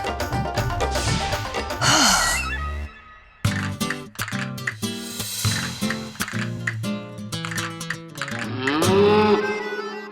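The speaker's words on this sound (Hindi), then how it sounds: "वैसे भैंस को घर पे रखना बेवकूफी है" Water buffalo giving long, loud, drawn-out moos and groaning calls, several in succession with brief pauses, close by and with no talk over them.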